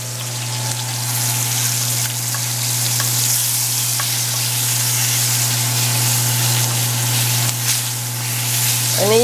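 Moroccan lamb stew ingredients and spices sizzle in a cast iron skillet, a loud, steady frying hiss over a constant low hum, with a few light clinks and a short rising squeak at the very end.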